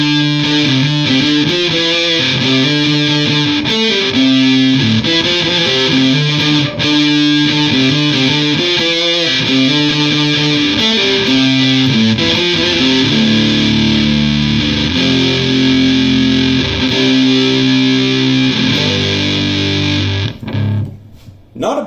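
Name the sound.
guitar through Big Muff fuzz pedal, tone rolled back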